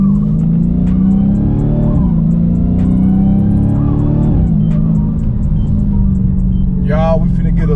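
A 2021 Dodge Challenger SRT Hellcat driving on the road, a loud, close engine drone that rises and dips with shifts, with someone talking over it and a brief high squeal near the end.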